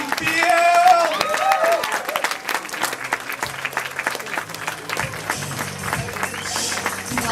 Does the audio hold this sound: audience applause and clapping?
yes